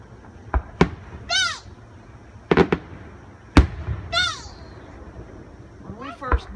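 Fireworks at a 2015 display burst in several sharp, loud booms, with whistling rockets streaking up between the blasts. People talk and react throughout.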